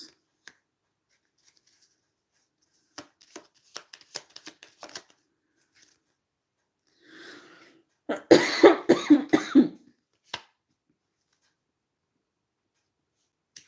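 A person coughs several times in a quick, close cluster, preceded by light tapping and card-shuffling sounds during a quiet tarot reading.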